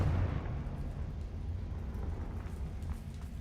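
A Confringo spell explodes in the video game Hogwarts Legacy, a loud, low rumbling blast that starts hard and rolls on steadily for a few seconds without easing off.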